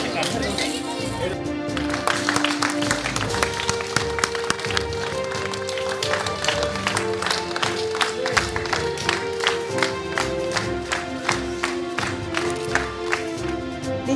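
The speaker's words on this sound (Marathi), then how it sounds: "डॉक्टर आणि नर्सनी टाळ्या वाजवून बाळाचं अभिनंदन केलंय" Doctors and nurses clap at a hospital as a six-month-old baby recovered from Covid is discharged, a brisk run of rhythmic, nearby claps continuing under a speaking voice.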